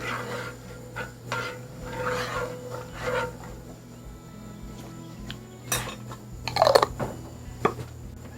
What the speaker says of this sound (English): I'm going to add a couple of tablespoons of pesto. And I'm just going to give that a stir.